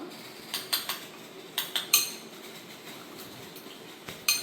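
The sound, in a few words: mixing soap ingredients with honey in a bowl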